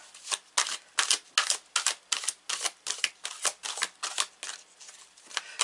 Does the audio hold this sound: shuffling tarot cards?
yes